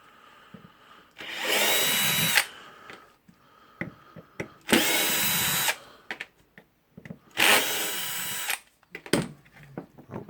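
A power screwdriver or drill runs in three separate whirring bursts, each about a second long, while screws are backed out of a Makita 9558HN 125 mm angle grinder's gear housing, with small clinks and handling noises between bursts.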